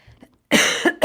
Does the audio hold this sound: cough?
yes